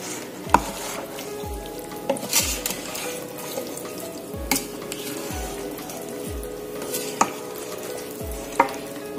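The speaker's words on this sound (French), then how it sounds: "On mélange très bien." A spoon stirs fried red beans with mint and smoked chicken in a pot, giving a soft steady scraping with a sharp clink against the pan every second or two, close and alone, with no talk.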